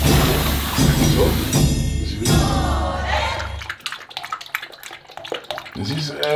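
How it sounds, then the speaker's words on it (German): Water sloshes and splashes in a bathtub as someone climbs into the bath, a loud rushing stretch followed by quieter, choppier drips and movement, with a voice briefly audible. "Jetzt gehe ich nämlich in die Badewanne."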